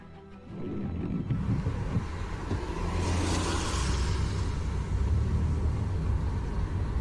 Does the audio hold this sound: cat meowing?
no